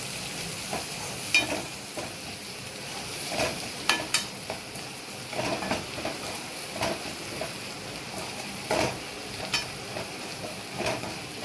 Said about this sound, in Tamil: கொஞ்சம் எண்ணெயிலே நல்லா வதங்கிச்சுன்னா நல்லாயிருக்கும்.